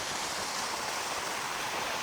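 Steady broadband rush of Marottichal waterfall near Thrissur, a continuous even roar of falling water with no voices, fairly distant and constant throughout.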